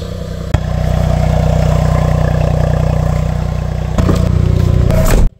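A car fitted with a newly installed rotary engine and an aftermarket exhaust idles loud and close with a rough, pulsing burble, rising in brief revs before cutting off abruptly near the end; nobody speaks.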